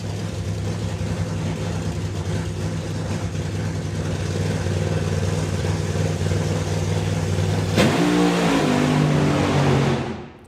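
A Thermareg Mustang drag car at a nostalgia drag racing meet idles with a deep, steady rumble. Near the end a sharp burst lets the engine roar up briefly before the sound cuts off abruptly.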